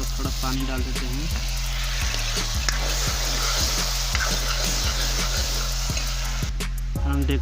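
Potatoes frying in a pan for aloo and egg sabzi, with a steady loud sizzle after water is added, punctuated by regular scraping knocks of stirring throughout.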